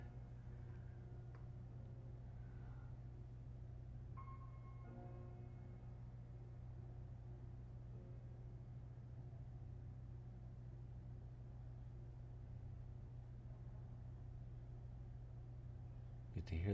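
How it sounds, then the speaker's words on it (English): Heavy trucks working outside give off a continuous low engine rumble, steady and fairly faint, with a few brief higher tones and a louder bump at the very end. "get to hear the trucks outside"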